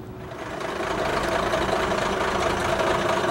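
A vehicle engine idles after an exhaust leak repair, a steady low rumble with a faint knocking rhythm that rises and then holds even, alone without talk.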